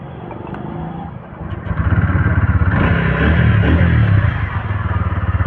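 A TVS Ronin motorcycle engine idles close by with a steady, rhythmic low thump that settles in after a brief quieter start.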